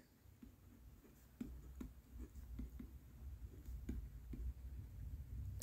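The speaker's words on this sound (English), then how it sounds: "Let's write it down." Notes handwritten on paper: faint, soft scratching strokes and light ticks at an irregular pace, quiet and close, with no talking.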